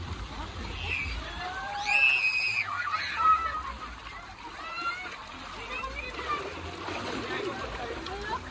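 Water pours down in a tunnel at a water park, splashing and sloshing in a bright burst, echoing in the enclosed space, with children's excited voices calling out around it.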